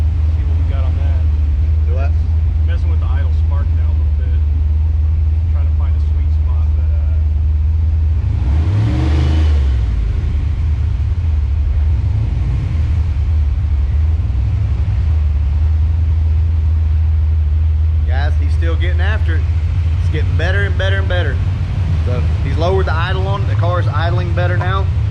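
A car engine idles steadily in a shop while its idle spark settings are adjusted, a constant low rumble with a brief swell partway through, and someone talks over it at intervals.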